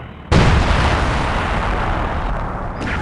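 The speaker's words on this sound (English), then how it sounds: "what better time to bombard the infantry with artillery?" Artillery shells pound infantry positions in the World War II strategy game Company of Heroes 2, a loud sustained roar of explosions that bursts in suddenly and rumbles on without pause, with no talk over it.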